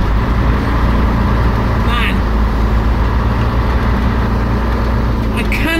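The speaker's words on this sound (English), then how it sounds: "I cannot believe the capability of this truck, guys." A 1977 Scania SBAT 111 6x6 army truck drives off-road down a steep slope, its diesel engine a loud, continuous low rumble throughout, with a voice briefly over it.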